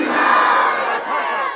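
A large crowd at a religious gathering roars a slogan in unison in response to Naara-e-Takbeer, a loud, sustained chorus of many voices filling the whole moment.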